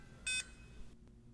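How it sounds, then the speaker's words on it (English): A Power Probe 3 battery tester connected to a vehicle battery gives one short, clear electronic beep, alone in a quiet setting. "press and hold the oval mode button until it beeps"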